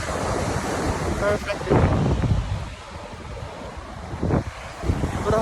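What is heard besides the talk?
ocean waves and wind at Boracay beach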